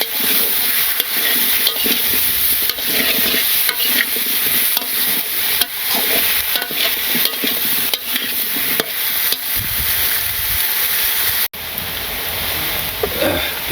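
Ash gourd pieces go into a spice masala and are stirred as they fry, making loud continuous sizzling and hissing with frequent scraping strokes throughout.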